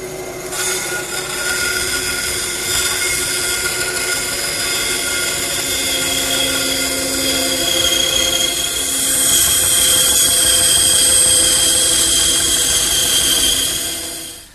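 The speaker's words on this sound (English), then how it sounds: "it's off to the bandsaw to rough it out" Bandsaw roughing out a wooden handle shape traced from a template for a coffee table, a loud continuous whine with steady tonal hum that rises slightly as the blade cuts, then tails off at the end.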